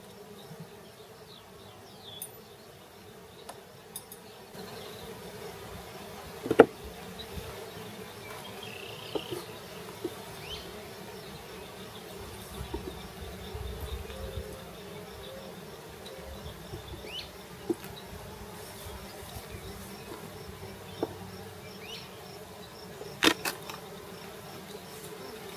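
Honey bees drone continuously around hives during a full apiary inspection outdoors, a steady low buzz with occasional bees zipping past close to the microphone and a few sharp handling knocks.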